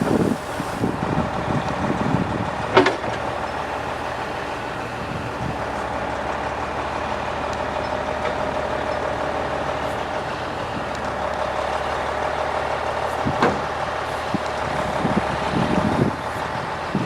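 A tow truck engine idles slightly high during a snowplow truck recovery, a low steady rumble under wind noise with a few faint clanks and knocks nearby.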